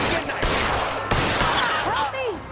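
Gunfire bursts out in the L.A. Noire video game during a hostage standoff, with a few sharp loud shots and a short echoing fusillade, plus whizzing effects near the end.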